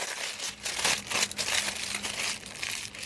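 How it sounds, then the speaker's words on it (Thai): Aluminium foil pulled out, crumpled and folded by hand, giving close, bright crinkling rustles in irregular bursts with no talking. "เอาอลูมิเนียมฟอยล์ขึ้นมานะฮะเปิดออกแล้วก็ดึงออกมาเลย"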